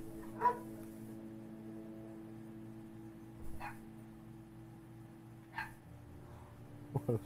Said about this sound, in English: What a stupid dog.